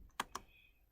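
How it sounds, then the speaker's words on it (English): A few keystrokes on a computer keyboard while entering a ping command to a virtual machine, two distinct close clicks followed by quiet, then one more tap at the end. "So I'm typing ping"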